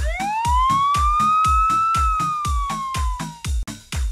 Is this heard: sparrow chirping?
no